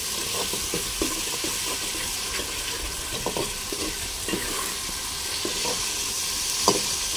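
Food sizzles and fries steadily in a home kitchen with three or four stoves going at once, including pilaf cooking, with soft stirring clinks and scrapes scattered throughout and no talk.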